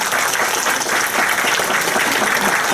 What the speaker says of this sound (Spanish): Por favor, las palmas para el ingeniero Tenorio